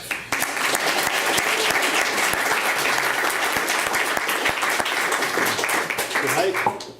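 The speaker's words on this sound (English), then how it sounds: "Let's give a big round of applause to James Gordon, aka GPA, greatest poet alive." An audience at a poetry event applauds poet James Gordon, known as GPA, with a full, continuous round of clapping and some cheering voices, steady and fairly loud for several seconds.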